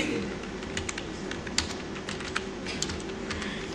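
Steady keyboard typing on a computer keyboard, entering a Google search: continuous close clicking of keys with a few sharper strikes, over a faint room hum.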